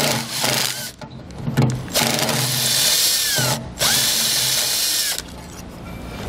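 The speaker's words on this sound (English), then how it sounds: "we'll take out the main bolts here and get our old one out of the way" A power tool, likely an impact driver, removes the main bolts of a Lippert 1621HD 5th wheel pin box on a 2010 Starcraft Homestead trailer, whirring loudly in several sustained bursts separated by brief pauses, close by.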